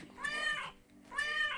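A cartoon cat in the video game 12 Locks gives two clear, drawn-out meows with a short pause between them, alone and close.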